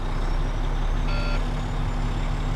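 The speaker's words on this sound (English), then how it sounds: "I can hear the audible lower pressure warning." A truck's audible low air pressure warning sounds as a brief electronic beep over a loud, constant idling engine rumble.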